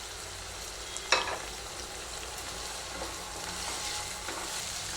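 Tomatoes sauté with curry leaves and green chillies in a pan for rava kichadi, giving a soft, steady sizzle with a brief stir or clink near the start; faint and close, no talking.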